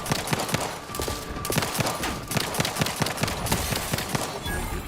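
Rapid gunfire in the video game The Outer Worlds 2, a dense fusillade of overlapping shots and impacts running steadily throughout, loud and close with no talk.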